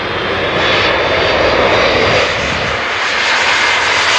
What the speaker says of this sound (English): let's watch the C-17 touch down